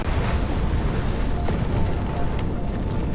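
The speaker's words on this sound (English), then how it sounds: "A deafening explosion cuts off the newscaster and an abandoned building collapses with a loud crash." Video game explosion and abandoned building crashing down in Love and Deepspace, a loud, dense, sustained roaring rumble that stays heavy for the whole stretch.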